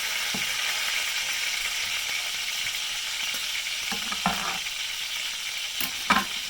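Ribeye steak sizzles steadily in a hot pan after being flipped, a loud continuous frying hiss with occasional sharper crackles and pops near the end, no voices.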